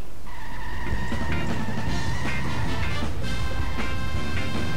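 A car in The Simpsons Hit and Run on GameCube drives and skids, its tires squealing loudly and continuously over a humming engine and game sounds.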